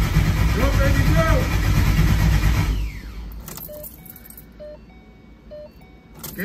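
An engine built as a "Frankenstein Coyote" combo is started for the first time: a loud cranking and rumbling burst that cuts back to a quieter, unsteady idle with short tonal chirps and people talking nearby.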